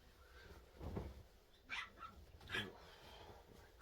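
A dog barks at the door a few times at a distance, short bursts separated by pauses, set against a faint, quiet room.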